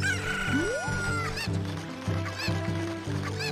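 A chicken in The Legend of Zelda: Ocarina of Time 3D crows and clucks loudly over game music, with a rising call followed by repeated short clucks in rhythmic bursts.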